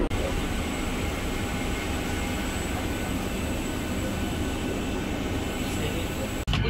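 A steady, loud drone of airliner engines fills the space while boarding a flight to Istanbul, continuous and unbroken throughout, with a brief dropout near the end.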